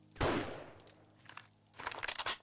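Sharp, loud game gunfire: a single blast followed by a rapid volley of shots, with a quieter gap between.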